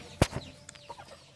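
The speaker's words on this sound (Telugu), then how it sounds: "ఈ బ్లాక్ కలర్ పెట్టాయి." A black Medak breed hen on a Telangana farm gives a few short, soft clucks after a couple of sharp rustling knocks, close by and faint.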